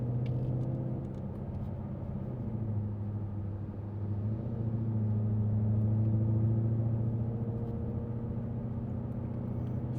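Steady in-cabin engine drone from a supercharged 2020 Mustang GT 5.0 cruising on the interstate, a low sustained rumble with gentle swells in pitch and road noise underneath, no voices.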